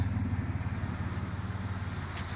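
A 1990 VN Commodore Exec sedan fitted with a VS Ecotec V6 idles through its exhaust, giving a steady, low, throbbing burble with a slightly uneven pulse and no voices over it.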